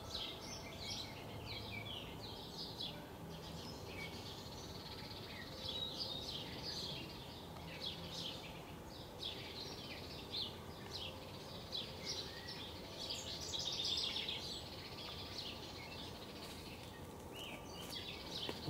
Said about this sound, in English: maybe it's just a regular sparrow, a house sparrow